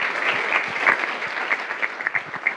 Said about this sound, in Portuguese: Peço o vosso aplauso.